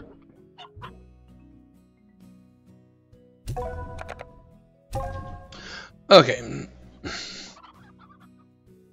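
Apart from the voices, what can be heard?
chickens clucking in video game Slime Rancher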